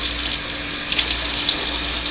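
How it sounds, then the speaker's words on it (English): Tap water runs steadily, hissing and splashing nearby while Krud Kutter cleaner is rinsed off the cord of a Singer sewing machine foot pedal, with no voices. "just rinse the rest of the cord with my other hand here"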